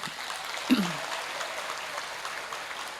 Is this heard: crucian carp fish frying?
no